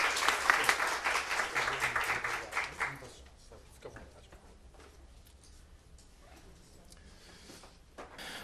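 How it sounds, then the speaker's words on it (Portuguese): Audience at a law seminar on organized-crime legislation applauds a speaker, a brisk burst of clapping for about three seconds that quickly dies away to scattered faint claps and room noise, with a voice heard faintly. "Tem uma salva de palmas a ele, né?"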